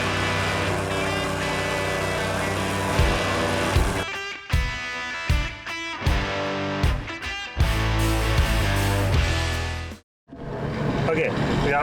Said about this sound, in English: He's still compacting over here.